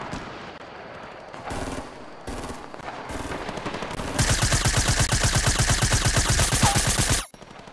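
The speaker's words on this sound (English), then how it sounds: "somebody's shooting over there" Gunfire in the video game Fortnite: a few short separate bursts, then about three seconds of loud, rapid automatic shots, close and with no talking.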